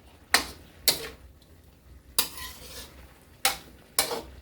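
Tilapia is stir-fried with oyster sauce in a pan, with five sharp spatula scrapes and tosses at uneven intervals over a faint sizzle.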